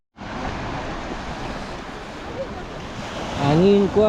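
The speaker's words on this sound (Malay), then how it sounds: "Ombak pun padu." Strong sea waves surge and wash steadily around a kayak fishing spot before a storm, a continuous churning roar with wind, and a voice briefly joins in near the end.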